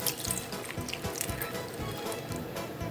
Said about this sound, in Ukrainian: І заливаю склянкою води.